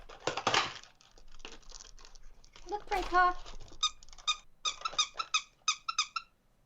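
Squeaky cat toys in World of Warcraft get batted around, giving a string of bright, short squeaks that come in quick bursts after a voice speaks at the start, near and fairly loud.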